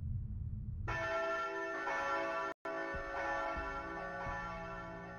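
A bell tolls repeatedly in Castlevania: Lament of Innocence, with long sustained ringing tones layered over a low game rumble, steady and loud throughout apart from a brief cut in the middle.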